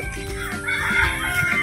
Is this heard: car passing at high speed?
no